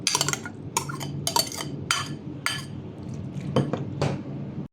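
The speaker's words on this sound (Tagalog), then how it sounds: "haluin natin tong ating mango" A spoon stirs sweetened mango and gulaman dessert in a bowl, giving a run of clinking, scraping knocks against the bowl in irregular bursts, close and fairly loud, with no talking.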